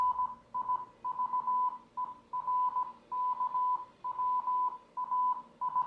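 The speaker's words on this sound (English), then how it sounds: "Audio from the final video posted sounds like Morse code" Repeated tonal beeps in uneven Morse-like bursts, steady and clear with short gaps between groups, playing alone without voices.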